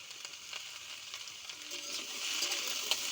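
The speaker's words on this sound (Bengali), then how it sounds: "এই ঝিঙে আলুটা আগে ভেজে নিচ্ছি।" Ridge gourd and potato pieces frying in hot oil give a steady, bright sizzle with crackling pops and stirring clicks, close by and growing slightly louder toward the end, with no talking.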